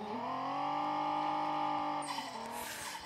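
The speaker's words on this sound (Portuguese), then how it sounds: "Eu tô dando um bocado de drift" A Toyota Supra drifting in a video game, engine holding a steady sustained drone with a tire squeal rising near the end, continuous and close with no talk.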